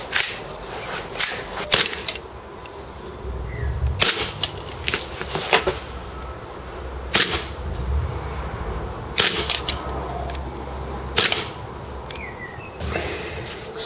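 VFC S&W M&P9 full-size green gas airsoft pistol firing 0.2 gram BBs, sharp cracking shots spaced a second or two apart with the slide cycling, close and loud in a quiet room.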